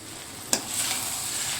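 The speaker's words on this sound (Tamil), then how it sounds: "போட்டுட்டு நல்லா அதை மசாலா அது மேலே கோட் ஆகிற மாதிரி ஃப்ரை பண்ணிக்கலாம்" Oyster mushrooms fry in masala with a steady close sizzle, broken by one sharp utensil knock as they are stirred in the pan.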